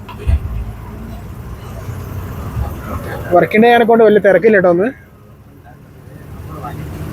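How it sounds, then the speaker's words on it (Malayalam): Bus engine rumbling and road noise as the vehicle rolls into the Kodaikanal bus stand, heard from inside with someone talking over it, then quieter idling toward the end. "കൊടൈക്കനാലിൽ ബസ് സ്റ്റാൻഡിലേക്കാണ് വണ്ടി പോകുന്നത്."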